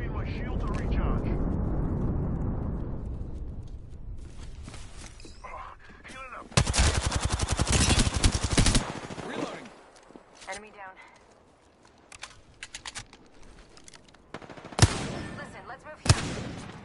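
Video game combat with an airstrike and gunfire: a low rumbling boom early on, then loud bursts of rapid gunfire and scattered shots, with a player talking over the action.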